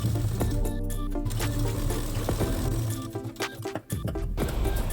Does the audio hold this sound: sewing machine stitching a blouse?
yes